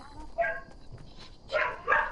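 A dog named Allie gives a few sharp barks, one early and two closer together near the end, fairly close against a quiet background.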